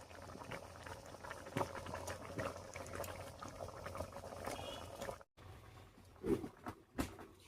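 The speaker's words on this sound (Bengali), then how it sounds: "ঝোলটা ফুটে গেছে" Egg and aubergine curry gravy boiling in a pot, a steady bubbling and popping simmer heard close up, with a brief gap and a few louder bubbles near the end.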